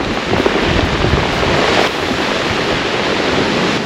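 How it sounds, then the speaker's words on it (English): Waves wash over a beach of smooth rounded stones on the road from Hana, with a steady loud surf roar and rattling pebbles, buffeted by wind noise on the microphone throughout. "as they go out, you can hear the rocks being rolled and continue that smoothing process"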